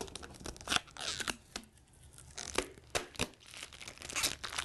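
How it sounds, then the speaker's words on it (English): Protective peel coat being pulled off an aluminum Chromaluxe panel: faint crinkling, tearing and crackling plastic sounds in irregular bursts, close up and quiet, with no talking. "What I want to do first is remove my peel coat on my substrate."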